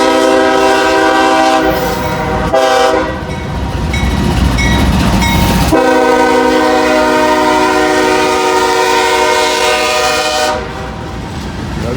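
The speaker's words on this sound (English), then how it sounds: "be a grain train" Grain train passing close by, sounding its horn in several long, loud, sustained blasts over the rumble of the moving train.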